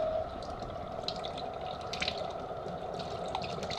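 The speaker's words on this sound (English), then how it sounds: "I can hear air coming up through the system." Air purging through in-floor hydronic heating pipes fed by copper plumbing makes faint, irregular bubbling and dripping gurgles over a low, steady flow hum.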